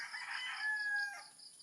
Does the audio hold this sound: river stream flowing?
no